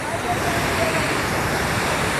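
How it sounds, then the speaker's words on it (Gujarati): The Jamjir waterfall gives a constant broadband rush, loud and unbroken, with some wind noise mixed in. "આ રહ્યો જમજીરનો ધોધ"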